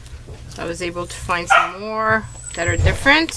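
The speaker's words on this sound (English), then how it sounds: "sorry about my dogs that are making so much noise" Several dogs bark and yip repeatedly in short bursts around a person talking indoors, the barks fairly loud and close.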